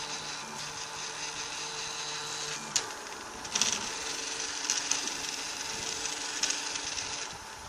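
3D printer extruding a bridge span in mid-air, with a steady whirring hum of motors and cooling fan, a few light clicks and taps from the moving print head, close and moderate in level, no voices.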